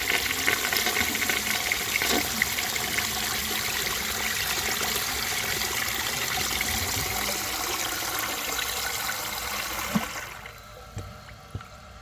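A 1927 Peerless low tank toilet flushes in a long, steady rush of water lasting about ten seconds, then cuts off abruptly into faint trickling and a few small knocks.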